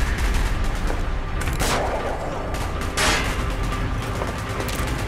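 Rapid gunfire in Call of Duty Black Ops, a dense, loud stream of shots with a few sharper bursts standing out, close and continuous, with no talking.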